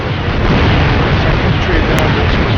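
Loud, continuous artillery fire and explosions from a battle in the Wargame European Escalation video game, with enemy units attacking across a bridge, merge into a dense, roaring rumble that fills the whole stretch.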